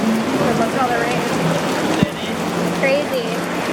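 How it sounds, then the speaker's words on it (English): Heavy rain pouring on surfaces during a rainy day in Siem Reap, Cambodia, a dense loud hiss throughout, with people talking over it and a brief thud midway. "Look at all the rain."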